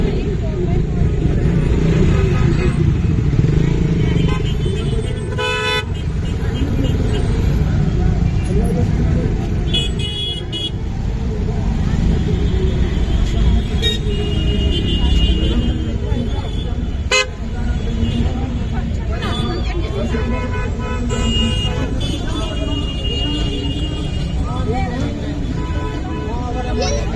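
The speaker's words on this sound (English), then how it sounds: "Because of this traffic, we cannot go anywhere." Heavy street traffic during the Christmas season, with car horns tooting repeatedly over a steady loud roar of engines, while people talk throughout.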